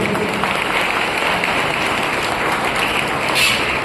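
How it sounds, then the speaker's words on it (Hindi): Loud, sustained clapping from an audience at an honouring ceremony, a dense, even wash of applause lasting the whole stretch with no voices on top. "एक बार और जोरदार तालियां बजा दें"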